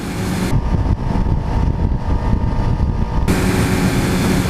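A sport motorcycle roars steadily while being ridden at speed. The engine drone is loud and continuous, mixed with heavy wind rush, and no one speaks.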